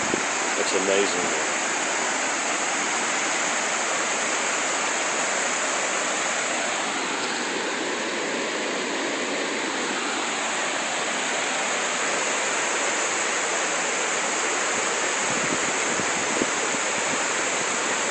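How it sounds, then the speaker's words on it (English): Rushing floodwater near a dam after Hurricane Irene in Monroe, New York, a continuous loud roar of churning water that holds steady throughout, with faint voices under it. "The sound of the water. It's amazing."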